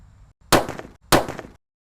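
A Colorful Thunder firecracker is lit outdoors, and two sharp, loud cracking bursts follow about half a second apart, each crackling briefly before it cuts to silence.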